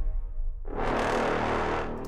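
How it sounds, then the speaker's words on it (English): A single sustained brass note from a Cine Brass Pro sample library patch swells in loud and full, holding steady for over a second before trailing off. "I use the Cine Brass Pro Monster brass patch"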